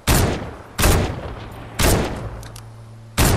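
Assault rifle in the video game Fortnite firing four loud, sharp shots spaced roughly a second apart, each decaying quickly, with faint game ambience between.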